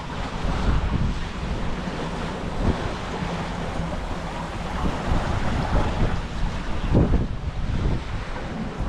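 Rough, choppy waves wash against a sailboat moving fast with a strong current in a wild channel, a continuous loud rush of water mixed with gusting wind noise.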